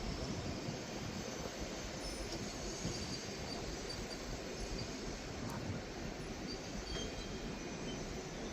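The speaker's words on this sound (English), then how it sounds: "Departing out there is the 11:56 Scotrail service starting here at Edinburgh Waverley 2, Glasgow Central." A ScotRail train departs Edinburgh Waverley station, its steady rumble and rolling wheel noise filling the space with faint high squeals, heard at moderate distance without speech.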